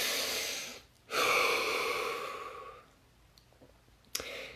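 A single deep breath drawn in slowly and released as a long, close airy exhale, followed by quiet stillness and a faint click at the end.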